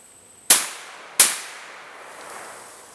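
Two loud, sharp shots from a Fox Model B double-barrel shotgun loaded with double-aught buckshot, spaced about 0.7 seconds apart, each followed by a short decaying echo outdoors.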